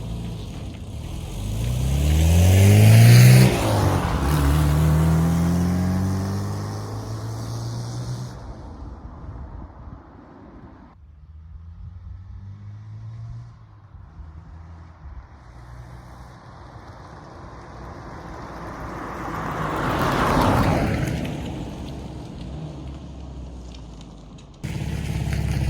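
A warmed-up barn-find Austin Maestro engine revs up loudly, settles to a quieter running hum, then rises again in a second rev before dropping off.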